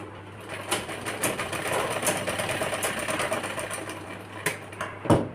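A sewing machine stitching along the edge of a small child's shirt, running in a fast mechanical rattle that surges and pauses with a few sharp clicks, close and alone without talk.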